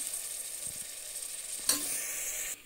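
Potato pieces, first soaked in water, drop into a hot pan for a beans and potato curry. A soft hiss jumps to a brighter, fuller sizzle partway through, then cuts off near the end.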